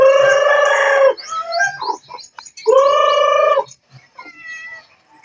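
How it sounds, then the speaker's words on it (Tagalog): A cat meows loudly and insistently at close range during a grade 6 graduation day at a school, giving two long drawn-out wails with shorter cries between them. "pati pusa na naman."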